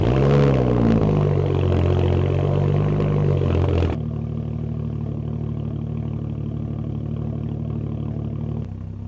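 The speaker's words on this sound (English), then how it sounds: "someone has completely cut out the mufflers on it, and it sounds horrible at higher speeds" BMW 335i with its mufflers cut out, a loud raspy exhaust drone revving and dropping, then settling into a steady low rumble at a constant idle.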